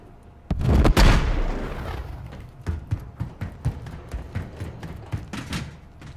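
Grenade explosion in a first-person shooter video game, one loud close boom followed by a run of sharp gunshots firing in an irregular rhythm as the blast fades.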